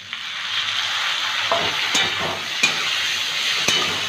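Boiled chickpeas fry in a cooked-down turmeric spice masala with a steady, close sizzle, while a spoon stirs through them with several distinct scraping knocks spread unevenly across the mix.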